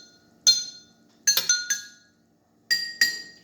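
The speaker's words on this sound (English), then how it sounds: "let's see how our glasses sound now" Drinking glasses used as a homemade xylophone are tapped in a sparse pattern of bright ringing clinks, a single strike then a quick cluster and a pair, each tone decaying fast in a quiet room.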